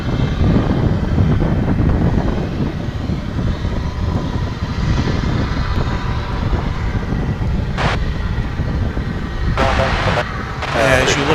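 A UPS Boeing 767 arriving at DFW International Airport, a steady loud jet roar with broadband wind-blown rumble throughout, a few brief higher bursts near the end, while a voice talks over it.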